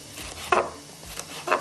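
Vegetables being chopped on a board for steamed butter rice, a few sharp knife strikes spaced about half a second apart with quiet kitchen background between them.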